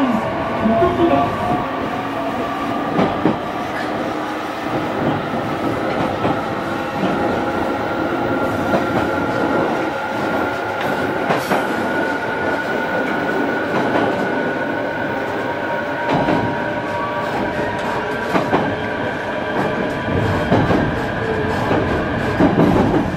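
A JR Kyushu 815 series electric train runs on the Nippo Line between Saiki and Usuki, a steady rumble of motor hum and wheel noise with rail joints clacking and faint brake squeal, continuous and close throughout.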